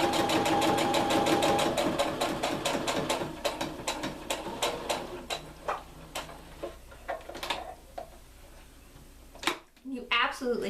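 A sewing machine stitches fabric while piecing quilt blocks, starting with a fast continuous run of stitches and then slowing into separate bursts, with a person talking over it.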